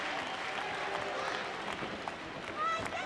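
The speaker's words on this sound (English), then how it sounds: "Colonel's leading the cheering." A wrestling arena crowd at a 1988 WWE women's match cheers and applauds, with a dense, steady roar of clapping and voices that stays fairly distant under a commentator's talk.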